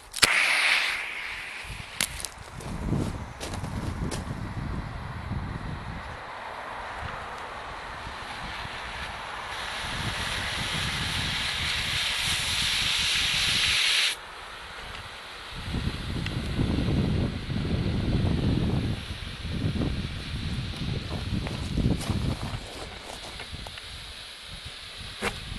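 A black smoke grenade is pulled and tossed outdoors on a windy day, then hisses steadily for several seconds over constant rumbling wind noise, with the hiss cutting off abruptly.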